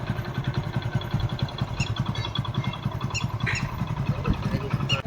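A motorcycle idles in a village with a steady, low putter, its even engine pulse running throughout, while voices talk over it.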